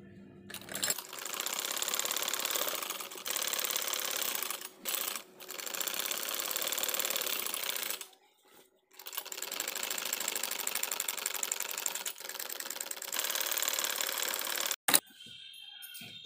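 A sewing machine runs along a kurta seam for a school uniform in several long bursts of fast, steady mechanical whirring separated by short pauses, with a longer stop in the middle.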